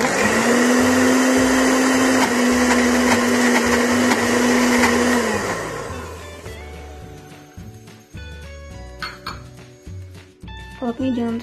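A kitchen blender grinds shrimp paste and chili into sambal with a loud, steady whirring whine that winds down partway through, followed by clinks of utensils and dishes.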